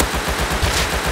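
Rust video game gunfire as a full magazine is emptied, a fast run of regular shots at close range that is loud and steady for about a second, with no talking over it.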